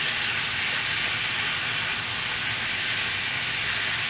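Fish and cabbage sizzle steadily in a hot pan while being stirred, a loud, continuous hissing fry with no pauses.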